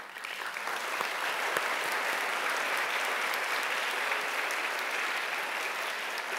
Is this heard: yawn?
no